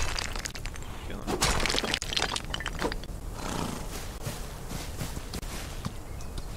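Horse hooves clatter in a busy, noisy stretch of the Old West video game Outlaws of the Old West, with steady footfalls mixed among other game effects.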